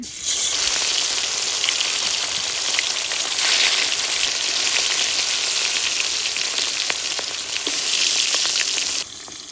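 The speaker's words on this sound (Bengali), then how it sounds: "প্রথমে মাছ ভেজে নিচ্ছি" Chunks of catla fish fry in a pan, giving a loud, steady, crackling sizzle that runs evenly for several seconds before cutting off abruptly at the end.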